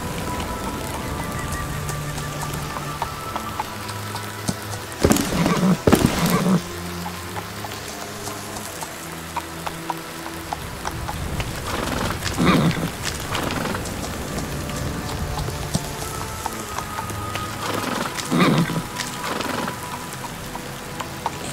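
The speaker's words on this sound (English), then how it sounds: "Well, my horse survived" Rain pouring over a horse in a gamebook adventure, a steady downpour with several louder bursts of splashing or rushing water rising and fading, and no talking.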